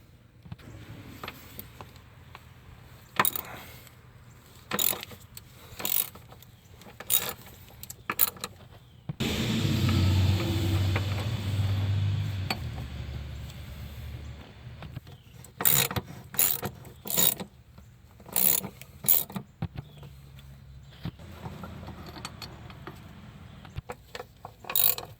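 A ratchet works a Torx bolt loose on the 3.6L Pentastar engine of a 2011–2023 Dodge Charger, sounding as bursts of close, sharp clicking separated by short pauses, with a longer low rumbling scrape partway through.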